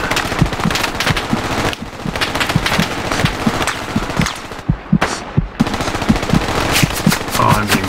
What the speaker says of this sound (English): Oh, I'm being shot at. I'm being sprayed at by the tank and everything else.